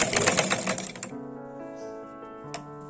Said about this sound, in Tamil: ஃபுல்லாக தைக்கணும்